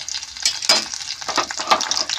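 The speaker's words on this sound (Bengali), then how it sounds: "সামান্য আমি নেড়ে নেবো আলুটা। এবার এর মধ্যে আমি ডাঁটাগুলো দিয়ে দেবো।" A spoon stirs fried potatoes and drumstick pieces around a pan, making quick close scrapes and clinks over a soft sizzle, with no voices.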